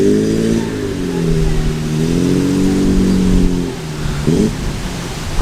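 A 3.8-litre Jaguar classic car engine revs at a classic car show, a steady mid-pitched drone that swells and eases for several seconds before settling, with light outdoor background noise and no talking.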